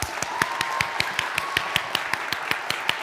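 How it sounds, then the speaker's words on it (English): Youth summit audience clapping in unison, a steady rhythmic beat of sharp hand claps repeating about every fifth of a second, loud and close, with a faint sustained tone beneath. "I want you guys to give yourselves a hand clap for making it this far"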